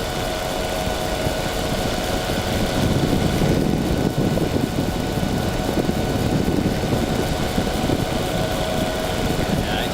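Steady drone of a tow plane's engine and propeller pulling gliders up to altitude, heard from aboard, continuous and fairly loud with a brief swell midway and no talk over it.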